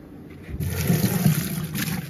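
Water poured over frozen hilsa fish heads in a kitchen pot, a steady close gush and trickle running for about two seconds with no talk.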